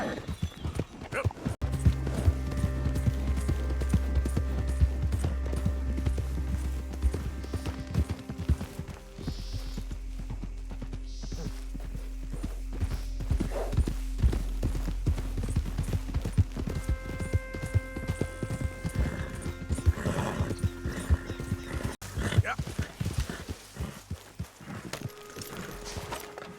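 Horse in Red Dead Redemption 2, hooves clip-clopping in a steady rapid rhythm at close range for most of the stretch, with a brief softer gap midway and faint game ambience around it.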